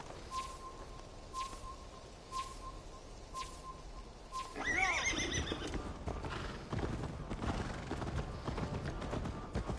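Hooves clip-clop in a quick gallop in Assassin's Creed Valhalla, joined midway by a loud, close neigh, with faint birdsong and light ambience behind, and no voices.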